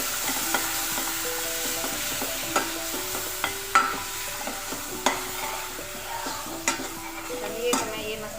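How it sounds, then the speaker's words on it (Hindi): Masala spices with turmeric and a bay leaf frying in a pan, stirred with steady scraping strokes over a continuous sizzle, close up, with no voices. "मसाला भूनती हूँ।"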